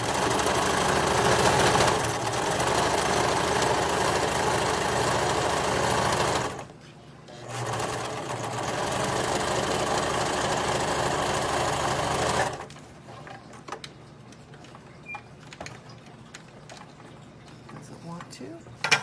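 A sewing machine stitches straight across the seam of a fabric book bag, its steady mechanical whir running loud and close, with a brief pause midway and a stop near the end, followed by quiet handling sounds.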